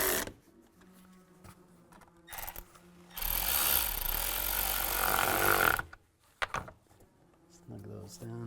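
A worm clamp on an intake hose is tightened during intake manifold seal work on a 2017-2022 GMC Acadia, giving a loud, steady burst of rasping tool noise for a few seconds. Quiet talk comes before and after.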